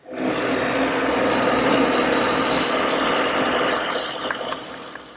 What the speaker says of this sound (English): Now the mortise is cut with this attachment I have on my drill press.